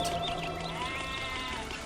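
Sheep bleating in the Zeus: Master of Olympus city-building game, a short wavering animal bleat over a steady bed of game ambience and chirping.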